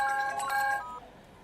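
A phone rings with a bright electronic ringtone, loud and close, sounding for under a second before cutting off and trailing into quiet room noise, with no voices.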